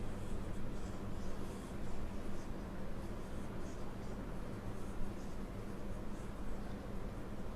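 Erasing writing from a board during a maths lesson, a steady soft rubbing scrub with faint rhythmic strokes, continuous and fairly quiet, with no one talking.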